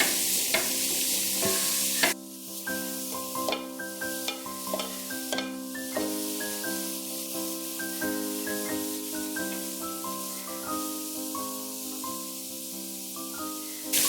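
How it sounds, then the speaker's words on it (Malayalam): Grated carrot and beetroot sautéing in ghee for payasam, a gentle sizzle with spoon stirring under a steady melodic tune, opening with a louder burst of hiss. "നമ്മൾ ഗ്രേറ്റ് ചെയ്ത് വെച്ചിരിക്കുന്ന ക്യാരറ്റും ബീട്രൂട്ടും കൂടെ ചേർക്കാം. ഇനി ഇത് നന്നായിട്ട് വഴറ്റിയെടുക്കണം."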